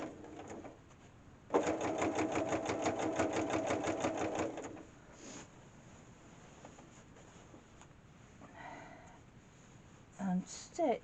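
A sewing machine stitches quilt binding with a back tack, a loud steady run of rapid stitching for a couple of seconds, then quieter handling sounds and a few short bursts near the end, with a voice speaking softly around it.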